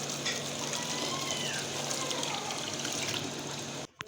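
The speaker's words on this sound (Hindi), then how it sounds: "इसके ऊपर मैं थोड़ा सा ठंडा पानी डालूंगी ताकि खिले खिले बने।" Cold water is poured over drained boiled rice in a colander, a continuous close splashing trickle that runs steadily and then stops abruptly.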